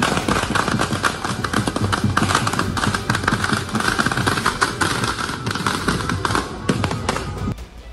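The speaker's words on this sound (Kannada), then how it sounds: "ತಿಹಾರ್ ಜೈಲು, ಕೇಜ್ರಿವಾಲ್ ನಿವಾಸ, ಆಪ್ ಕಚೇರಿ ಬಳಿ ಪಟಾಕಿ ಸಿಡಿಸಿ ಸಿಹಿ ಹಂಚಿ ಸಂಭ್ರಮಿಸಿದ್ರು." Firecrackers burst in rapid, dense volleys of sharp cracks at an outdoor political celebration in Delhi, loud and continuous with a faint crowd murmur underneath.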